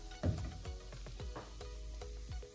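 Egg toast sautés quietly in a single pan, with soft crackling sizzle and a few light taps and scrapes at close range, low in level with no talk.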